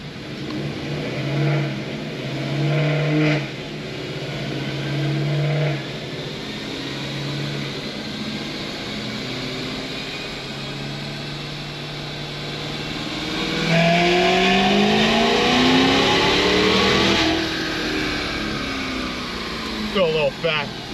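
A Cadillac CTS-V engine, running rich and smoking, drones steadily at high load on a dyno, then its pitch climbs sharply in a loud sweeping rev before dropping away, with a fan-like roar underneath.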